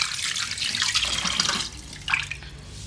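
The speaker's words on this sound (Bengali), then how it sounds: "আর বনলেস চিকেনটা একটু ধুয়ে নিচ্ছি" Boneless chicken rinsed under a running kitchen tap, a close splashing hiss of water with brief shifts as the pieces are turned, no voices.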